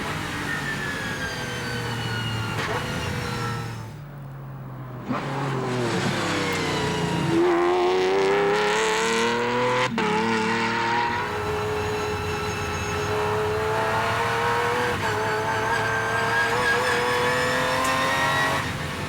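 An Aston Martin DBRS9 GT3 race car laps a tight, twisty club circuit at Magny-Cours, its engine revving hard through rising and falling gear changes, briefly fading before surging back loud and close.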